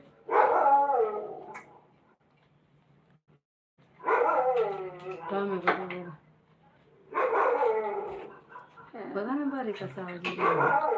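A dog barks in a few short bursts spread across the clip, mixed with people talking nearby.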